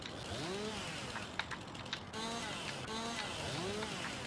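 A chainsaw cuts down trees in the Farming Simulator 19 logging game, a steady buzzing engine drone with pitch sweeps as the saw revs and bites, with a few clicks mid-way.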